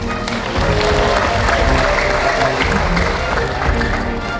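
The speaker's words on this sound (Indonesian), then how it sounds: "Tepuk tangan, mana suaranya?" A large crowd of students claps and cheers loudly at a school leadership training event, with thick, sustained applause, rumbling low noise and scattered voices throughout.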